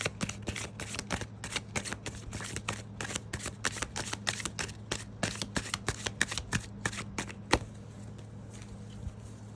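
A deck of tarot cards is shuffled by hand in rapid, rhythmic riffles, close and crisp, with a steady low hum beneath and the shuffling ending near the close.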